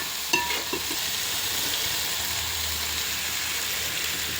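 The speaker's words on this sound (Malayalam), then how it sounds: "തക്കാളിയും ഇഞ്ചിയും പച്ചമുളകും വെളുത്തുള്ളിയൊക്കെ പേസ്റ്റൊക്കെ ഇട്ടിട്ട് വാട്ടുന്നു കേട്ടോ" Tomato, ginger, green chili and garlic paste sautéing in a pan for a beef curry, giving a steady close sizzle and fry throughout, with a couple of brief stirring clinks near the start.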